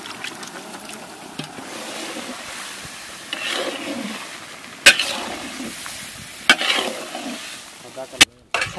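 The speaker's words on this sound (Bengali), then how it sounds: "সবজিগুলো ভালো করে একটু কষে নেব মশলার সাথে" Vegetables and carrots stir-fry with spices in a pan, hissing and sizzling continuously, with swelling waves of frying noise and several sharp spatula clacks against the pan.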